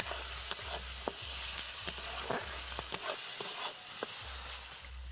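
Ground spice paste with green chilli fries in oil in a pan for an egg curry, a continuous close sizzle broken by regular soft stirring knocks.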